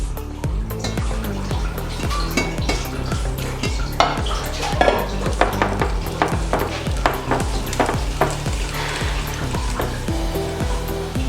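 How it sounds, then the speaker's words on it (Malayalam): A spoon stirs aloo bonda batter of gram flour, spices and water in a bowl with rapid rhythmic scraping and tapping, a steady close-up clatter that continues throughout. Nobody speaks. "അല്പം വെള്ളമൊഴിച്ച് ഇത് നന്നായി ഒന്ന് മിക്സ് ചെയ്തെടുക്കാം."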